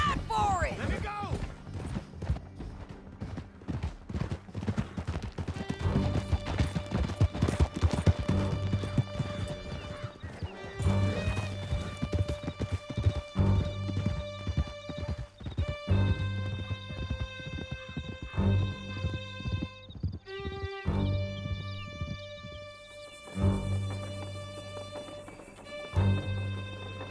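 Horses gallop hard in a canyon chase in Red Dead Redemption 2, a loud rhythmic drumming of hooves with occasional whinnies under tense music and shouted voices.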